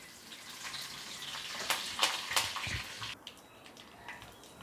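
Mustard seeds and urad dal frying in hot sesame oil for onion chutney, a crackling sizzle with a burst of sharp popping spatters in the middle that then eases to a quieter hiss.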